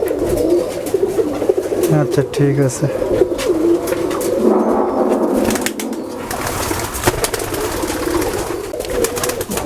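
A pair of running pigeons coos repeatedly nearby in a busy pigeon-keeping setting. People talk over and between the throaty calls.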